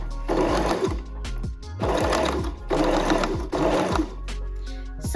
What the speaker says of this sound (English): So we are going to fold it twice, 1 centimeter each time, and then top stitch to finish it.